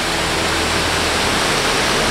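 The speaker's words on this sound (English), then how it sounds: "That stunning that waterfall" Steady, full-bodied rush of falling water from a scenic waterfall, a dense continuous roar with no breaks and no voices.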